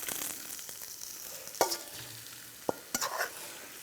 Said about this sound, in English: I want to sear up and brown up the outside skin first